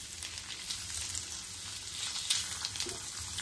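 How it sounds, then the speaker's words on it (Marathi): Eggs being stirred quickly into a masala frying in a pan, making a close, busy sizzle with soft scraping stir noises throughout. "आता मसाल्यामध्ये अंडी चांगली घोलवून घ्यायची आहेत."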